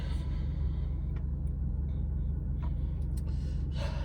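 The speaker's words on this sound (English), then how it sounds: "Traffic, guys, traffic." Steady low road-traffic rumble from cars and heavier vehicles fills the scene on a Canadian morning during construction season, continuous and fairly close, with a few faint higher clicks and noises scattered on top.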